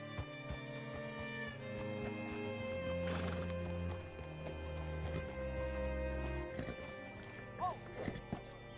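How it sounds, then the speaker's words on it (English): A horse in Red Dead Redemption 2 gives a whinny, with clip-clop hooves against a background of game music and ambience. Other noises briefly overlap, and the horse sounds moderately close. "Hitch your horse up here."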